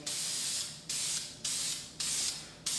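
An aerosol can sprays self-etching primer onto motorcycle front forks in short bursts, five bright hissing sprays separated by brief gaps, close and fairly quiet with no talking.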